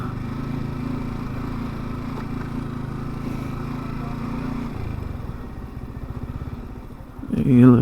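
A motorcycle engine runs steadily at a low, even rumble, then slows into a choppier idle before a sudden louder burst near the end.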